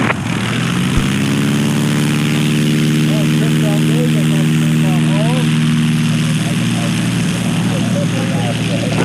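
Small STOL airplanes take off from a runway at the Great Lakes STOL competition in 2021. Propeller engines drone loudly and continuously, their pitch climbing steadily, with indistinct voices underneath.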